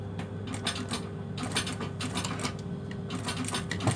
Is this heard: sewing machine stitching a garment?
yes